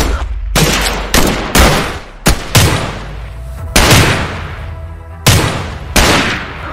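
Single gunshots fired one after another, about nine loud, sharp cracks at uneven intervals, each followed by a booming, echoing tail.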